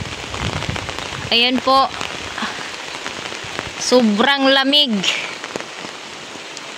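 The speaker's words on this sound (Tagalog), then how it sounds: "Medyo malakas ang ulan, may kasamang hangin." Heavy rain with wind pouring down on a home garden, a steady dense wash of noise throughout, while a person speaks briefly over it.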